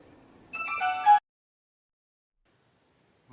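A phone ringtone sounds once as a short, bright electronic melody of stacked tones, then cuts off abruptly to silence before a faint start of another ring.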